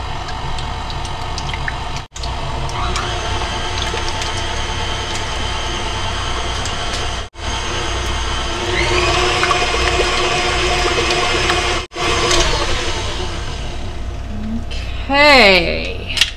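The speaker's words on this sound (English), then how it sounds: "I'm going to mix this all up until it's nice and smooth" Lemon cream pie filling made with bottled lemon juice is mixed until smooth, giving a steady whirring, churning drone with short breaks between stretches, a speaking voice heard over it at the end.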